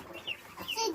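Short, soft clucks from chickens, a few quiet bursts over about a second with a faint background hum.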